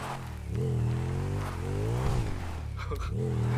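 Car engine in GTA V driven by a novice, steady revving drone with rising and falling pitch as it accelerates and shifts, loud and continuous, with a brief scrape or bump near the end.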